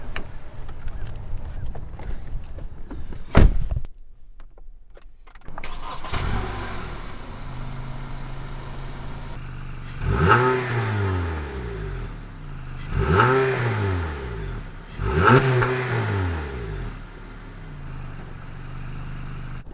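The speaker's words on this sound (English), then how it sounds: "All right, so let's start the car up, see how it sounds." A 2015 Honda CR-V engine cranks and catches, settles into an idle, then revs up three times in a regular rhythm, each rise and fall clear and close.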